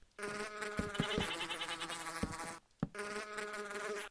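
A bee buzzes in modded Minecraft, a steady harmonic drone that runs continuously and drops out briefly once before returning. Soft thuds interrupt it, with no talking.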